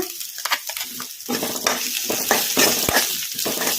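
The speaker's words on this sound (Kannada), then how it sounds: "ಇವನ್ನೆಲ್ಲ ಮೀಡಿಯಮ್ ಫ್ಲೇಮಲ್ಲೇ ಫ್ರೈ ಮಾಡ್ಕೋಬೇಕು ಈ ಥರ ಕಲಿಸ್ಕೊಂತ ಫ್ರೈ ಮಾಡ್ಕೋಬೇಕು" Onions and green chillies frying over a medium flame, with steady sizzling and scraping as a utensil stirs them around the pan.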